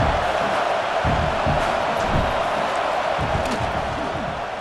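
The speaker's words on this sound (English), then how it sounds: "This crowd trying to do its part to get inside the kicker's head." Stadium crowd noise from a college football video game, a dense steady roar of fans building pressure before a field goal attempt, continuous and loud throughout.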